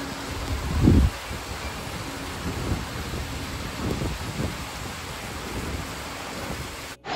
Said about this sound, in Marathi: अचानक पाऊस चालू झालाय